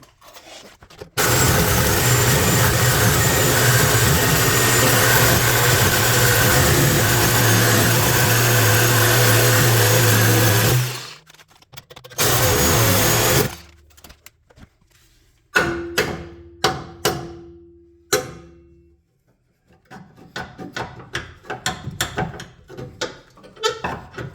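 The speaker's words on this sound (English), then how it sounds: "I'm going to grab my Sawzall and just do the top part" A Sawzall reciprocating saw cuts loudly through the top of a Gen 1 Ford Raptor rear shock mount in one long run and then a shorter burst. Sharp metallic clanks and knocks follow as the piece comes free.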